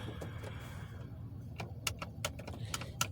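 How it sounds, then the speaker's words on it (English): Metal keys jangle and click sharply in several quick bursts while a door is being locked, close by, over a low background hum. "Let me lock this door."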